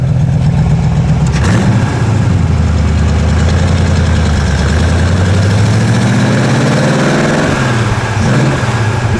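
A supercharged Y-block V8 in a 1932 Ford Roadster runs loud and close for the whole stretch. It holds a rough, throbbing idle with a few revs rising and falling.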